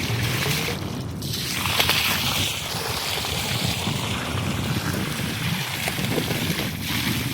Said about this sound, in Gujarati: જોઈ લો, પાણી અત્યારે આવી રહ્યું છે.